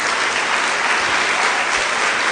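A church congregation claps together in praise, a loud, steady, continuous wash of many hands without pause and no talking over it.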